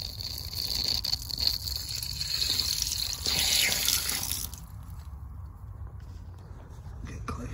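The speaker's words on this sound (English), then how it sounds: "Water's on, that's live now. So I'll let some out" Water runs from a newly plumbed tap into a sink, a steady hissing splash that grows slightly louder midway and then settles into a softer flow near the end, with no voices.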